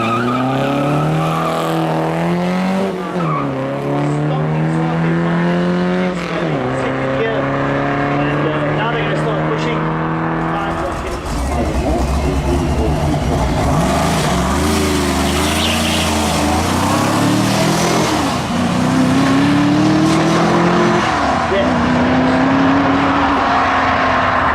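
Alfa Romeo race car at the Jaguar Simola Hillclimb, its engine revving hard and changing pitch through gear changes, loud and close throughout, with squealing tyres and a voice talking over it.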